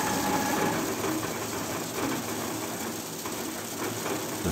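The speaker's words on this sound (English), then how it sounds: "we will demonstrate our roller crusher with mobile feeder" Roller crusher fed by a mobile feeder grinding tough, abrasive metal-rich material, a dense continuous mechanical roar with rattling grit, steady and loud throughout.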